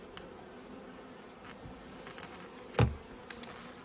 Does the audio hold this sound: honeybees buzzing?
yes